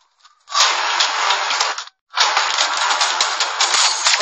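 Gunshots in an action movie: two long bursts of rapid automatic fire, loud and close, separated by a brief gap of silence, with no talk over them.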